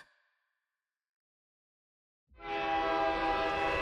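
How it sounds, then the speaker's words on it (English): In a Girls' Frontline 2 game scene, a train horn suddenly blares after near silence as a train thunders into a station, a loud, sustained, harmonically rich tone with rumbling underneath. "the urgent blare of a train horn as it thunders into the station"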